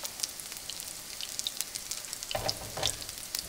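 Potato cakes fry in a pan with a steady, fine crackling sizzle, scattered pops and a brief louder spatter near the end, fairly quiet and close with no talking.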